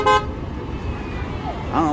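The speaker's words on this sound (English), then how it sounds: "I don't know what they're honking at." A car horn toots briefly on the busy Las Vegas Strip, a short honk at the start and another near the end, amid street noise and a nearby voice talking.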